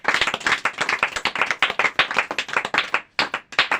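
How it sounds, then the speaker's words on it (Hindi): A congregation at a Hindi-language Christian group prayer service claps hands together in a fast, steady rhythm, loud and close, with a brief pause near the end. "बोले यीशु प्रभु की ताली बजा के महिमा देंगे प्रभु को"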